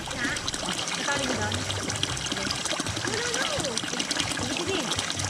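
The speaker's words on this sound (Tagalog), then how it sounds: "itong tubig daw na to is galing daw sa bukal. Dito daw nagigib yung mga lokal." Spring water trickles and splashes steadily in a continuous wash of running water, close by, with a voice talking over it throughout.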